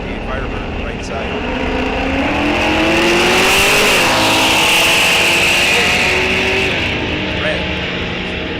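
A 2006 Mustang and a 1968 Firebird launch side by side in a bracket drag race at Rock Falls Raceway, loud engine roar swelling and passing, with an announcer talking over it.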